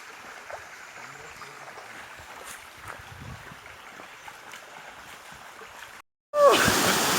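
A waterfall at a campsite in Yalova, Turkey, gives off a steady, low rushing wash of water, broken by a brief dropout and then a sudden, much louder burst of close splashing and rushing, with no one talking.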